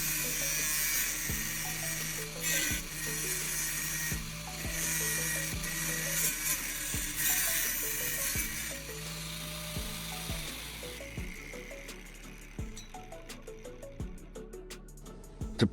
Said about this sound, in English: Pulling the grinder down is incredibly smooth and controlled. Notice how it slices through the metal perfectly straight